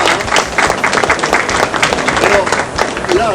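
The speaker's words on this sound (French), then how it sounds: "oui, on peut l'applaudir déjà." An audience claps at an award ceremony for gold-medal sorbets in Dijon, a steady wash of applause lasting several seconds with voices murmuring and speaking over it.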